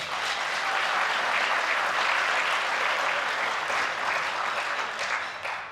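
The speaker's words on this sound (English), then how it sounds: "So let's give them a round of applause." Attendees at a New Jersey Conference of Mayors speech give a full round of applause: a thick, continuous crowd clapping that holds steady for several seconds and tapers slightly at the end.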